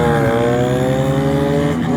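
Kids race vehicles on the longest bridge in Vietnam, making a steady, loud engine drone with a whining tone. The pitch dips briefly, then climbs again at the end.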